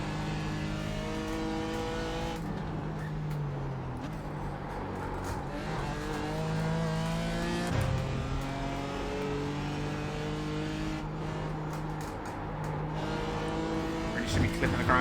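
A BMW race car screams around Road Atlanta in the iRacing simulator on its final lap, its engine rising in pitch through each gear, dropping with upshifts and braking, continuous and close throughout.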